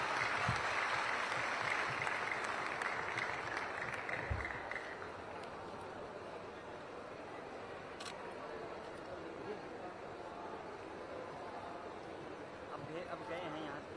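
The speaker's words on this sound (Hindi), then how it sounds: "आप सभी की जोरदार तालियां होनी चाहिए इस खास मौके पर" Loud applause from a festival closing-ceremony crowd in Gorakhpur fills the first few seconds, then tapers off into a softer, more scattered patter and a background murmur.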